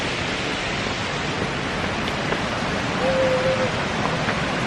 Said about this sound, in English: Headed to the waterfall.